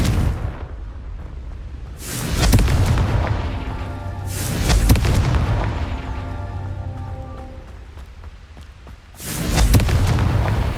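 Confringo fire spell blasts in Hogwarts Legacy, three or four deep booming explosions spaced a couple of seconds apart, each rolling off into a low rumble with lingering crackle between them.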